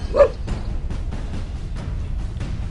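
Dogs bark from inside a house at night: a sharp bark up front, then a run of muffled, repeated yaps at a distance over a low background rumble.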